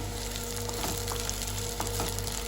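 Prawns and coarsely chopped garlic fry in a pan with a loud, continuous close-up sizzle and crackle, with occasional soft scrapes of stirring and no voices.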